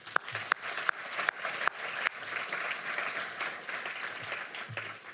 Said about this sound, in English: So please give me a round of applause for Nitesh.